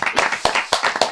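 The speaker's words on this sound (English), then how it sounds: "I will clap for that" A few people clap their hands in a quick irregular burst, sharp close claps coming several times within about a second.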